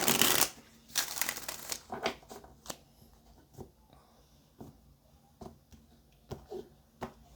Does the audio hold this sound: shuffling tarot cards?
yes